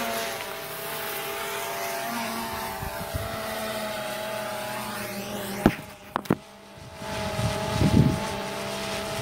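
A drone flies outdoors on a windy day, giving a steady propeller whine with shifting pitch, a few sharp knocks around the middle and a rougher burst near the end.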